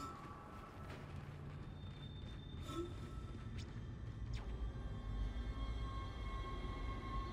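Dead Space's tram rumbles along with a low, continuous rolling drone, and faint metallic squeals and clanks rise now and then over the steady ride noise.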